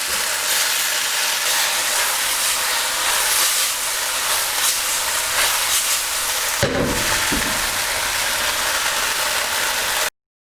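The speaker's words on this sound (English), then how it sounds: "cook this through now for a couple of minutes until those prawns are fully cooked" Satay king prawns stir-fry in a hot pan with a continuous loud hiss and sizzle, broken near the end by a brief clatter of utensil or pan, with no speech.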